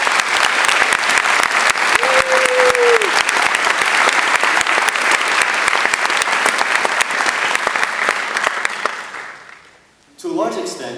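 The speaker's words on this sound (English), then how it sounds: "this is probably a good time to give ourselves a nice, long round of applause" Long, loud round of applause from a crowd at a high school graduation ceremony, sustained dense clapping for about ten seconds before fading, then a voice begins speaking.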